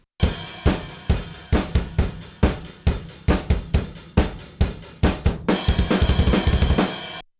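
A kick drum with overhead and room mics blended in booms in a steady pulse of about two hits a second, then breaks into a rapid roll of hits that ends in a loud wash of cymbal; loud and close, with no talking.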